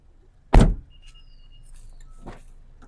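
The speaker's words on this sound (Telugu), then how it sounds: "లెఫ్ట్ ఫ్రంట్ డోర్ తీసాను సార్." Left front door of a 2018 Honda BR-V 1.5 V manual petrol seven-seater being opened, a sharp close latch clunk followed by a fainter second thunk about two seconds later, with quiet background.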